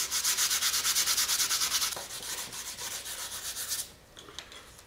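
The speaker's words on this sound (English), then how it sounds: "So I got a bunch more sanding to do." Carbon fiber landing gear for a scale RC plane is being sanded by hand in fast, even back-and-forth strokes that are close and loud, then slow down and fade into a few light rubs.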